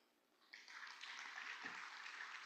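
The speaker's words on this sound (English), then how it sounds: "Maybe a round of applause for that." Applause from a conference audience swells quickly into a dense, sustained wash of clapping, moderately loud and filling the room.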